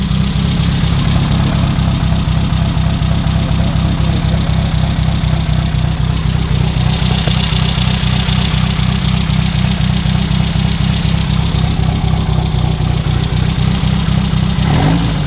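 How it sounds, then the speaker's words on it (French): A Renault R8 Gordini engine idling with slightly noisy rocker arms: a steady, close, loud rhythmic low thrum with a fast ticking pulse, unchanging for the whole stretch, no talking. "C'est un petit peu bruyant au culbuteur, mais ouais."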